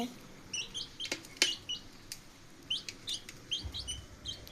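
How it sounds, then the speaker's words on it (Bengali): Backyard chickens kept indoors on a rainy day, pecking at shrimp fed to them: scattered sharp pecking clicks and taps, with intermittent short chirps and soft clucks nearby, moderately loud over a quiet background. "আজকে আমি আমার মুরগিদের চিংড়ি দিয়েছি। তারা চিংড়ি খায়।"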